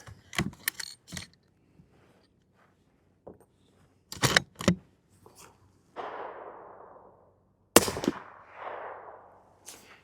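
A suppressed Faxon FX7 bolt-action rifle in 8.6 Blackout with a 16-inch barrel fires two sharp shots, each a brief crack with a short noisy tail, set among scattered metallic clicks and clatters of handling the bolt.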